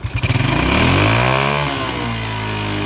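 A Yamaha Jupiter motorcycle engine sputters to life and revs hard, climbing to a loud, buzzing roar before easing slightly, close by with no talking.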